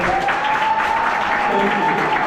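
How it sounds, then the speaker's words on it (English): Audience applause at a university debate, a dense burst of clapping from the crowd, loud and close and filling the whole moment. "Can we have a round of applause today?"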